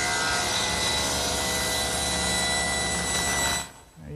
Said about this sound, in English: So I've set up my table saw with what's known as a thin kerf saw blade